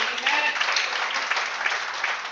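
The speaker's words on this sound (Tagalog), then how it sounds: "Palakpakan po natin ang Panginoon." Church congregation at a Sunday service clapping together, a dense, steady wash of applause with a voice faintly underneath.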